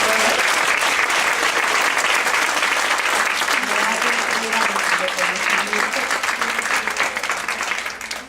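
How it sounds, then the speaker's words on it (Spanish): An audience gives a loud, dense round of applause for a speaker, Dr. Patti, sustained throughout and tapering slightly at the end. "nuevamente les pido un fuerte aplauso para la doctora Patti"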